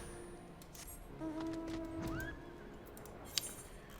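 A horse in the video game Final Fantasy XIV gives a clear, drawn-out neigh with a rising whinny, followed by a brief sharp click and quiet hoof clops in an otherwise quiet scene.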